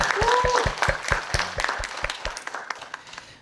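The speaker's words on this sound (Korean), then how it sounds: "격려의 박수 함께 부탁드립니다" A small crowd at a church young adults' worship service claps together in a steady burst of applause for the praise team that gradually thins out and fades to quiet.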